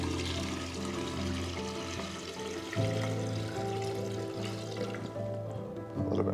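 Water mixed with floral food is poured into a container for a flower arrangement, a steady close pour with a ringing, rising tone as the vessel fills.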